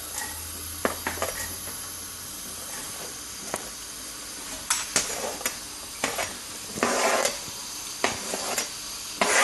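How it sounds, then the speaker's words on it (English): Onions frying in a pan for shepherd's pie, a steady loud sizzle with occasional stirring scrapes and a few louder spitting bursts. "first thing we need to put the onions in. The onion goes in first."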